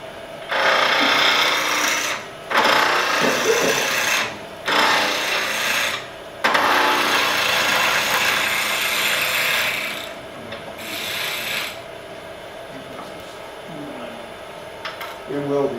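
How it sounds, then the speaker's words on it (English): A wood lathe spins while a tool shapes a spindle for turned wooden flowers. Loud rasping cuts come in repeated bursts of a second or two, separated by short pauses, and then fade to a lighter scraping. "Basically, all this is spindle turning."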